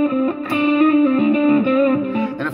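Electric guitar playing a slidey jazz-style lick, notes sustained and smeared by delay and reverb with a slightly distorted tone, close and steady for a couple of seconds with no talking.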